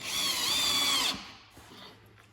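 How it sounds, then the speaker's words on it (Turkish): Power screwdriver drives a screw into a drawer rail while a four-drawer chest is assembled. It gives a loud, close, high whine for about a second, then stops abruptly into quiet handling noise. "En baştaki deliğe sıkıyoruz vidamıza."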